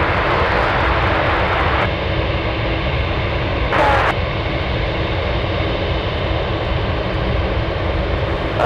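Steady, loud aircraft engine drone fills the air at Anchorage airport around a Beechcraft C-45 Expediter, a broad continuous roar with a brief burst of extra hiss midway.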